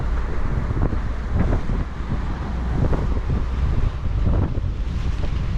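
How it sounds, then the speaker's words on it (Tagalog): Strong wind buffets the microphone with a constant roar while big waves crash and surge repeatedly around a boat at sea in the West Philippine Sea, loud and close throughout. "Malakas ang alon, malakas ang hangin."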